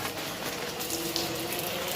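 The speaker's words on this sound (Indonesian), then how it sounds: "sekarang kita akan melakukan proses penyiraman" Soft, steady trickle of water being poured while watering a potted aglaonema plant set on a saucer with stones over the soil, faint and continuous with no talk.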